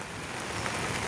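Steady rain falls during a days-long downpour in Kalyan, a brief, even hiss of drops close by with no voices.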